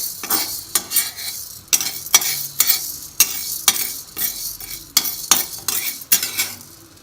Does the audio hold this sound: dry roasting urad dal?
yes